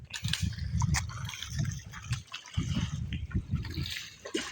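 Fish leaping and splashing in a water-filled pond or tank, with irregular bursts of close, fairly loud splashes and trickling water, interrupted by a brief lull midway.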